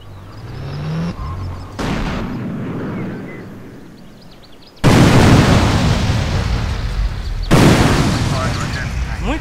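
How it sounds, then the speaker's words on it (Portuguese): A missile fired in GTA San Andreas whooshes off, then two heavy explosions burst loud and close, each leaving a long roaring tail, with someone talking over the earlier part. "Aí ela encaixa o binóculos no rosto e lança o míssil"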